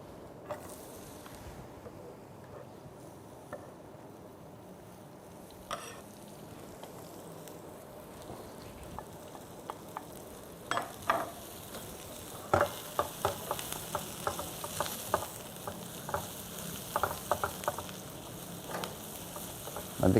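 Onions sizzle in hot oil in a pan, a soft steady crackle that grows busier, with sharp pops and spatters and occasional utensil stirring clicks.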